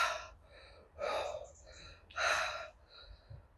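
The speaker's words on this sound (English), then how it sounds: "Breathing to get air in my mouth to cool my tongue." Heavy, gasping panting breaths from a person after eating Carolina Reaper chillies, three loud bursts of breath with quieter breaths between, close to the microphone.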